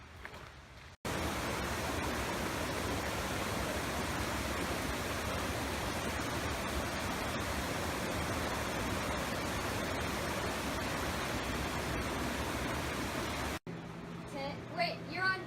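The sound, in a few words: flowing stream or waterfall water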